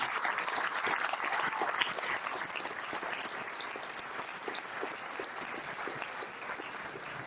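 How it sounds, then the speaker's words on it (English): An audience applauds to welcome presidential candidate Robert F. Kennedy Jr. at a live Bitcoin talk, a steady dense wash of clapping that holds throughout with no voices over it. "give a very loud welcome and round of applause"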